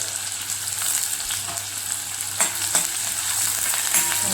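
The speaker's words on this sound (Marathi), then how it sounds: "व्यवस्थित कांदा भाजून घ्यायचा।" Onions fry in a pan for a kharda egg curry, with a continuous close sizzling hiss and occasional soft stirring scrapes and no talk.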